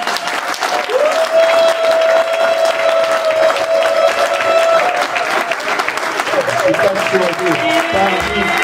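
A church congregation at a sermon claps and cheers loudly and continuously, a dense wall of applause with a voice calling out over it throughout.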